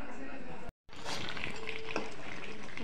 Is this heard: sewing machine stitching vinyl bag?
no